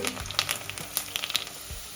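Small onions and garlic fry in oil with curry leaves for a lentil ball curry, a steady close sizzle broken by quick crackling pops and light scraping stirs, with no voices.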